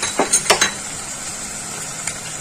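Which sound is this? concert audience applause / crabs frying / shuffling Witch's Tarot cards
crabs frying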